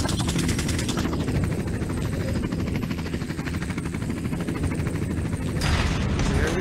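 In a video game, a helicopter unleashes a sustained barrage of rapid gunfire over a heavy rotor roar, a dense, loud, continuous rattle with a fresh burst near the end.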